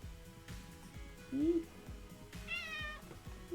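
A cat meows a couple of times in the Swords of Legends Online game, close and clear over a rhythmic background music beat.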